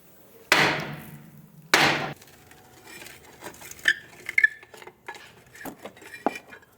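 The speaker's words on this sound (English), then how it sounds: "I'm just going to use my hammer on different parts of it and hopefully break it free." A hammer strikes a stuck rear brake drum on a 2006-2011 Chevrolet HHR, two loud ringing metallic blows followed by a series of lighter, quicker taps and clanks up close.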